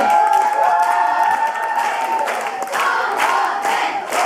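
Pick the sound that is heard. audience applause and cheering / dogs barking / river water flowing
audience applause and cheering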